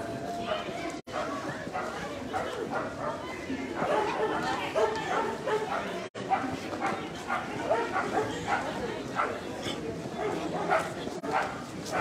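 Several dogs bark and yip repeatedly among a crowd at a nighttime farolitos procession in Tultepec, Mexico, mixed with steady chatter and people talking close by.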